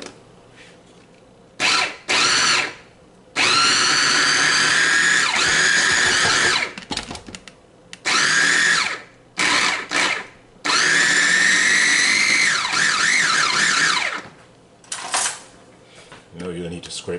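A blender grinds soaked lentils for dal puri in bursts of loud, high whining whirring that stop and start several times, with quiet pauses between.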